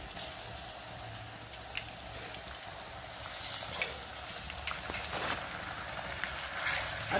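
Ginger-garlic paste sizzling in hot oil in a pan for a potato-brinjal curry, a steady soft frying hiss with occasional scrapes of stirring, growing slightly louder midway.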